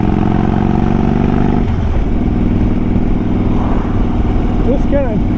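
A Harley-Davidson Dyna Wide Glide motorcycle engine runs with a steady, loud low throb, and a voice talks over it throughout, the engine note shifting slightly partway through.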